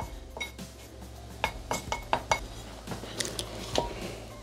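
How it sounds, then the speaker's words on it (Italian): A teaspoon stirs paprika into cornstarch in a bowl, giving a series of light clinks and scrapes against the dish, irregular and fairly faint, with no talking. "Mettere la paprika nell'amido di mais ed amalgamare con un cucchiaino."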